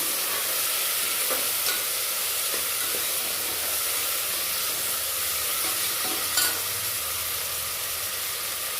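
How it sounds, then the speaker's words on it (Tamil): Tomatoes and mixed vegetables sauté in a hot pan for a Tirunelveli-style veg kurma, giving a steady, close sizzle with occasional soft stirring clicks and scrapes throughout. "தக்காளி இதெல்லாம் நல்லா வதங்கினதுக்கு பிறகு நம்ம இந்த காய் எல்லாம் போட்டு கொஞ்சம் வதக்கிடுவோம்"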